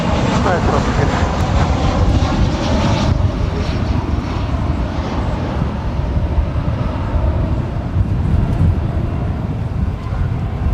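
An American Airlines Airbus A319 taxies at DFW Airport toward runway 18 left, a continuous, loud jet engine roar and whine with rumbling low end, and a voice talks over it.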